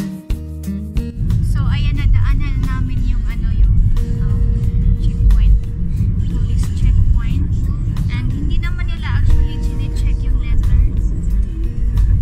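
Steady road traffic on a busy street near Penang Bridge, with cars rumbling and passing close by in a continuous low drone that fills the whole stretch, with no speech.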